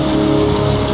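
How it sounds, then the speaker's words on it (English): Steady rain pours down in the video game Heavy Rain, a dense continuous hiss with patter on surfaces, loud and close, no voices. "It's cold. It's raining."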